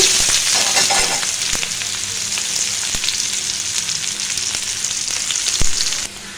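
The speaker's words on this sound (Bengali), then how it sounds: "এখনও কড়াইতে অবশিষ্ট যে তেলটা আছে ওই তেলে আমি পেঁয়াজ কুচিগুলো দিয়ে দেবো" Chopped onions fry in the oil left in a wok after frying pomfret (rupchanda) fish. The loud, close, continuous sizzle carries several sharp crackles and pops, then drops off abruptly at the very end.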